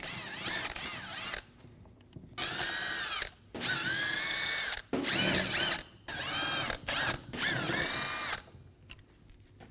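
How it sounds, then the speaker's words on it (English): A power tool with a 10 mm socket spins out fan clutch bolts on a 2019-2025 Ram 2500 6.7L, close up, in about five short whirring bursts separated by brief silences. "Using a 10mm socket, we're going to remove all of the bolts for the clutch."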